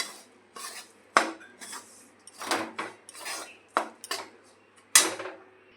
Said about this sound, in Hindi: और इसे अच्छी तरह से मिक्स कर लेंगे।